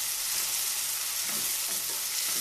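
A chopped large red tomato going into a pan of masala oats, heard as a dense, steady frying sizzle with faint stirring movement, close and even in level, no voices.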